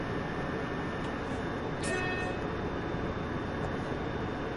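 DB class 155 electric locomotive hauling containers in Train Sim World on PS4, a loud, steady rumbling drone echoing inside a tunnel, with a brief brighter whine near the middle and no talking.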